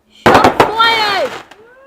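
A firework goes off on bonfire night with a loud sharp burst followed by a long descending whistle, as voices shout close by.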